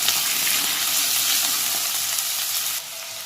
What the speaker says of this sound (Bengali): আলুগুলো দিয়ে দিলাম, দিয়ে ভালো করে নেড়ে দিতে হবে।